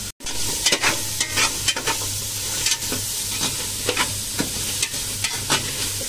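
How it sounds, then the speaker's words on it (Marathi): Onion sautéing in oil in a pan gives a continuous, fairly close sizzle broken by regular scraping strokes of a stirring spoon, with no talk. "कांद्यात तेल टाकून आता चांगला परतवते"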